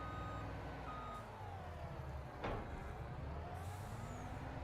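A truck in Farming Simulator 25 gives steady reversing beeps over a continuous diesel engine drone while backing up to hitch a semi-trailer, with a brief hiss partway through.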